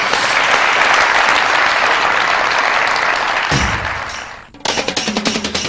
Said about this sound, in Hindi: बहुत सारी तालियां मिसबा भाई के लिए।